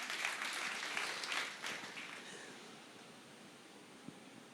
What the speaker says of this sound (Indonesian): Berikan tepuk tangan buat dia.